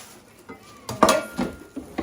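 Small kitchen pots, lids and a pan are handled up close. Several light metallic clinks and knocks come in short irregular bursts over a quiet background.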